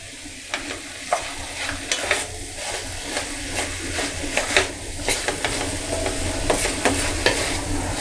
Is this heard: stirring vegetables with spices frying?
yes